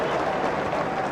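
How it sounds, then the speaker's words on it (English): A football stadium crowd at Manchester United against Sheffield Wednesday cheering a pass, a short, loud, steady roar of many voices with no break. "Every pass greeted with a loud cheer."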